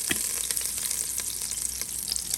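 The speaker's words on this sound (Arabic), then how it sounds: "حطيت معلقه زبده، حط عليها شويه زيت" A spoonful of butter and a little oil sizzle in a cooking pot, a steady close hissing crackle with small pops throughout and no talking.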